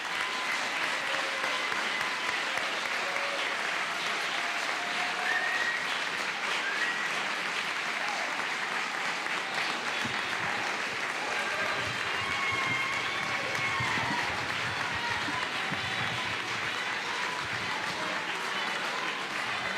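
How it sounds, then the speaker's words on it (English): Steady audience applause for two candidates at a Republican primary runoff forum for Harris County Judge, a dense, continuous clapping from a large room that holds evenly for about twenty seconds with faint crowd murmur underneath. "let's have a hand for our two great candidates."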